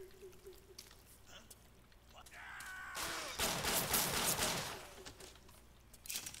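Rapid burst of gunfire in the video game BioShock, loud dense volley lasting a couple of seconds amid game ambience, with scattered shots before and after.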